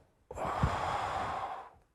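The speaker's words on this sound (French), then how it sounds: "Une respiration." One deep breath taken close to the microphone: a sudden soft intake flowing into a long, airy exhale that fades out after about a second and a half.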